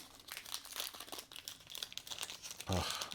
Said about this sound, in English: I always open from the top, spread it open, split it down the back, and pull the cards out.